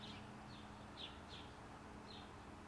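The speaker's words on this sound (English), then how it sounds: "so that's a house sparrow we got." A house sparrow gives about five short, faint chirps at irregular intervals over quiet background hum.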